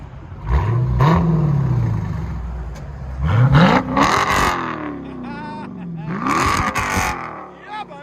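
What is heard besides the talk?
Dodge Challenger Scat Pack 6-speed engine revving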